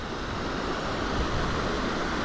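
Strong current rushing through a river pool on the Azusa river, a continuous loud broadband roar of water close by with no pauses.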